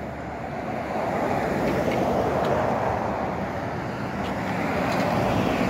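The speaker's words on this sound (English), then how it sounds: "I'm gonna let these cars pass." Cars pass on a road in a steady, broadband roar of traffic and tire noise that swells and holds near the microphone for several seconds, with wind buffeting and no speech.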